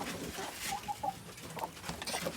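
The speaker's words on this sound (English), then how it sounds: "Got 2 broody chickens who shouldn't be in there." Hens, including broody ones, cluck and murmur close by in short, uneven bursts, with a few sharper clucks breaking through the soft background noise.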